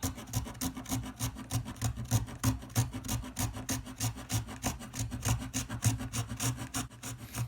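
A handsaw works through wood moulding along a primer line, giving steady rapid rasping strokes, loud and close, in a continuous back-and-forth rhythm with no talk.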